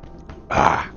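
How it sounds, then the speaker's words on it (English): A single short, rough throat clearing, close and fairly loud, after a brief quieter lead-in. "Let me clear my throat."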